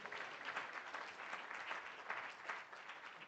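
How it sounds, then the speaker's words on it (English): An award-ceremony audience gives a university team steady, continuous applause, a dense wash of clapping that holds at even strength throughout with no talking on top. "So let's give him a round of applause."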